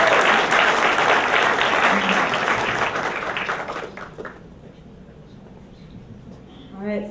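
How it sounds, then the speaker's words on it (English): Loud audience applause at a film awards ceremony in a theatre, a dense burst of clapping and cheering that fades out after about four seconds, leaving quiet room tone and a brief voice near the end. "Big round of applause for Adam, Emily, and Amy"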